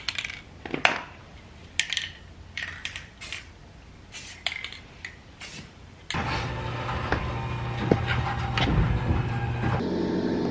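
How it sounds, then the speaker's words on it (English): Sharp clacks and taps at first, then an air compressor for a nail gun kicks in and runs with a loud steady mechanical hum to the end. "as you can hear, Josh has his nail compressor thingy out"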